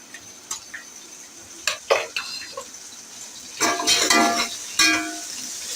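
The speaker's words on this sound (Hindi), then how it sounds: "यहाँ पे प्याज और गरम मसाला अच्छे से फ्राई हो रहा है।" Onions fry in a pot with whole garam masala of cinnamon, cloves and black peppercorns for chargha biryani. Intermittent scraping stirs and bursts of sizzling rise over a quiet background.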